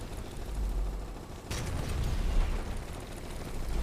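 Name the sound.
gunfire in a video game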